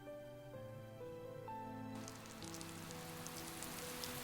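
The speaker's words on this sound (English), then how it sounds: "begins to talk amid the sound of rain" Steady rain from the video game Cafe Enchante falls throughout, a continuous hiss that grows fuller after the first two seconds, laid over soft sustained background music.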